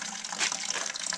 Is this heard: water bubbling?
yes